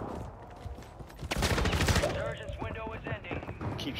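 Rapid automatic gunfire in the video game Call of Duty Warzone crackles in a dense burst lasting under a second, followed by quieter scattered game noises and distant shots.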